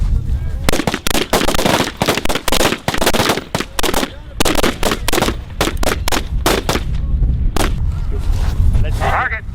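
Rapid, loud rifle fire at a military rifle range with a tank battalion, dense sharp cracks in quick succession, some overlapping, with brief pauses and voices calling out between shots.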